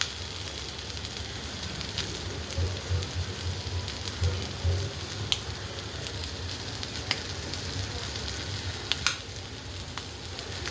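Seasoned popcorn or paneer tossed in a hot pan sizzles steadily up close, with scattered sharp pops and crackles rising from the constant frying hiss.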